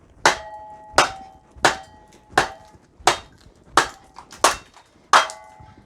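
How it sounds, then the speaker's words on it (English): A hammer strikes a steel splitting wedge set in firewood: seven sharp, ringing metallic whacks about a second apart, loud and close, with no talking. "I'm going to give it a couple good whacks so that it'll stay in the position I want."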